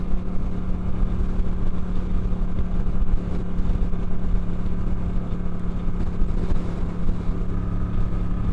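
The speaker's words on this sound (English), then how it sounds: "Anyway, bike handles the highway perfectly." A Moto Guzzi V7 III Rough motorcycle cruising on a bumpy highway, its engine drone steady and continuous with heavy wind and road rumble throughout, close and fairly loud.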